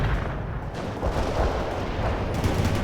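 Heavy gunfire and artillery from the World in Conflict video game, a continuous dense roar of blasts and explosions in a Soviet assault battle, loud and close with no gaps.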